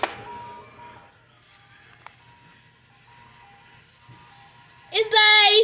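An ice cream truck plays its tinkling jingle, faint and distant at first, then bursting loud and bright near the end as it comes close.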